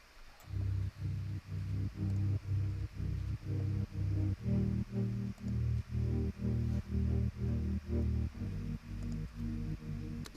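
Synth patch in a melodic techno production, pulsing in steady repeated chords of about two per second, each swelling and cut short, moderately quiet and with no voices.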